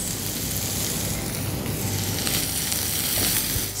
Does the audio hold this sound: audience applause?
no